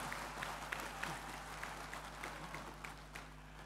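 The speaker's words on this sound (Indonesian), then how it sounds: "Tepuk tangan kita loh." A crowd claps steadily at the FEKDI x IFSE 2025 opening ceremony, a sustained, even patter of applause heard from a distance over a constant low hum, without standout peaks.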